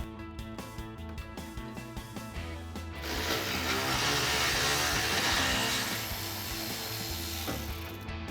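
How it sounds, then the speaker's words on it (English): A ratchet clicks in rapid, rhythmic strokes while loosening the muffler isolator bolt under a 2021-2024 EcoBoost F-150, then gives way to a louder, steadier mechanical whir before the clicking briefly returns. "we've got one more bolt to remove on the isolator right at the back of the muffler"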